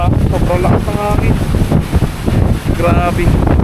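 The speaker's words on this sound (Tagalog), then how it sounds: "Grabe lakas ng hangin." Heavy coastal wind roaring steadily across the microphone at a beach campsite on the West Philippine Sea, camping in a Suzuki minivan, loud and unbroken, while people speak faintly beneath the gusts.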